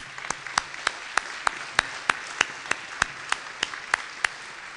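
A lone person or small group claps steadily at an awards ceremony, about fifteen evenly spaced, sharp claps standing out over a soft room hum.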